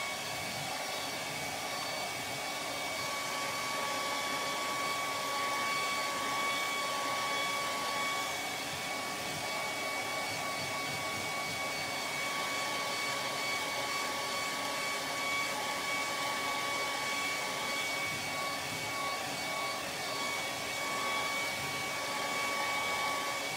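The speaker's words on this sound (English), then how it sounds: "now I'm going to hit at them with a blow dryer" A blow dryer runs continuously, a steady whooshing hum with a faint high whine, unchanging throughout and with no voices.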